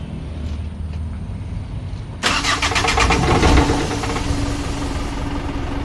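A Mitsubishi 4D33 diesel engine cranks and catches after a top overhaul, jumping from a quiet hum to a loud, clattering diesel idle with a brief rev before settling into a steady knocking run.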